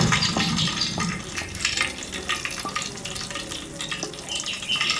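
Herbs dropped into hot oil while making a homemade herbal hair oil, giving a continuous busy sizzle and crackle with stirring, fairly close and steady throughout, with no talking over it.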